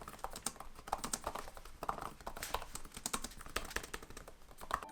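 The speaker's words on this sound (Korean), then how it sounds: "키 트래블 자체는 많이 얕은 편인데 생각보다 타이핑을 하는 느낌이 나쁘진 않습니다." Typing on the keyboard of a Samsung Galaxy Book2 Pro laptop with shallow key travel, a steady, close run of dense key clicks with no talking.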